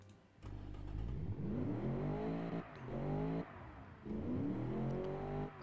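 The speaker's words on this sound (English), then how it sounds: "It's still a reasonably quiet engine." A sport car engine in the Automation video game revs up in three rising pulls, climbing in pitch, then dropping, a smooth, moderately quiet simulated motor with no talk.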